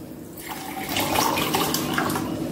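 Water pours steadily into a pot of rice for mushroom biryani, a continuous splashing stream that grows slightly louder partway through, close by with no voices.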